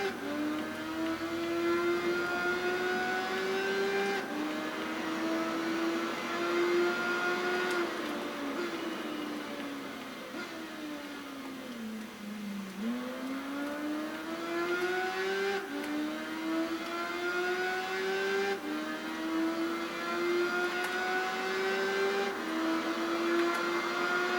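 A motorbike engine in the PS2-era racing game Tourist Trophy, sustained and close, its revs climbing and falling repeatedly through gear changes, dipping low mid-way before building again, with no talking.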